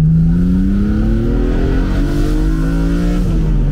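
A tuned BMW Z4 M convertible revs loud and close, its rising harmonic exhaust note climbing steadily through the clip with a deep rumbling undertone.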